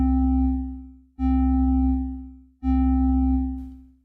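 A synth lead patch with a slow attack and long release sounds three held notes, each swelling in softly and then fading gradually into the next, smooth and full in the low range, with nobody speaking.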